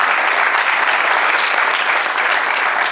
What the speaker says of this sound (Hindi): जोरदार तालियों से स्वागत कीजिए सभी कलाकारों का।